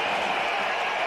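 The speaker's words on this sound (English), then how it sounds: "And this crowd at Sabina Park is alive." Steady applause from the cricket crowd at Sabina Park, a dense continuous wash of clapping filling the stands, fairly loud and unbroken for a brief moment.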